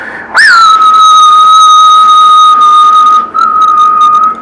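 A loud, steady electronic whistling tone from a Cobra 148 GTL CB radio that swoops up at the start, holds a piercing pitch, and dips briefly before continuing.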